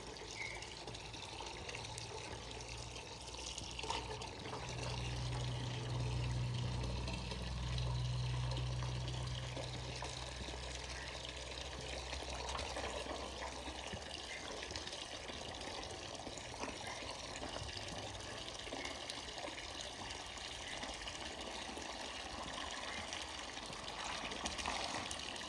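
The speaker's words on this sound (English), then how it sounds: "you're about to see it once I start pouring this onto the concrete" Acid from an epoxy floor kit is poured onto a wet concrete floor, producing a steady, continuous liquid splashing and trickling wash at moderate level throughout, with no talking.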